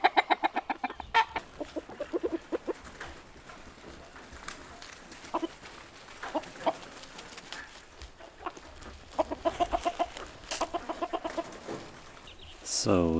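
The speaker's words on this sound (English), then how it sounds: "Chicken scratching away." Chickens on a small farm in northern Sweden cluck repeatedly in short rhythmic bursts, close and fairly loud, with soft scratching and rustling between calls and an outdoor background.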